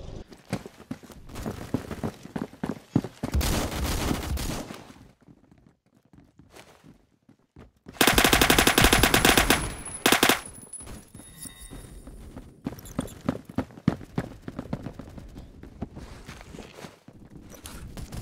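Rapid gunfire in the Roblox shooter Phantom Forces, with bursts of sharp shots coming in clusters, one long loud sustained volley in the middle, and scattered footsteps and clicks between them.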